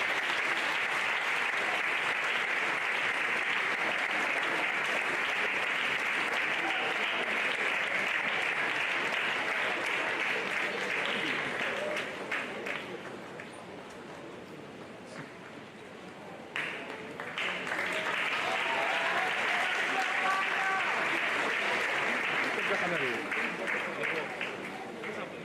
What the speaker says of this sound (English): Please keep clapping as they come up stage.